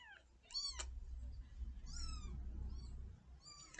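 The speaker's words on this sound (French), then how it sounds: "pour cette vidéo je vais être accompagnée de deux petits chatons, Photon et Onde." Five-day-old orphaned kittens mewing in thin, high cries, several short meows spread across the clip over a low background murmur, close and fairly quiet.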